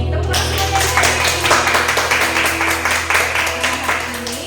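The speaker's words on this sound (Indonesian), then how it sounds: "Tepuk tangan semuanya." Children clap their hands together in a steady, lively rhythm during a Sunday kids' worship gathering, many claps blending into a continuous patter that holds up over a constant low hum.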